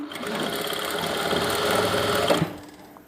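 A sewing machine stitches a fabric strip onto a palazzo in one steady, rapid whirring run up close, then stops abruptly near the end.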